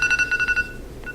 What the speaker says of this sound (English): that was our timer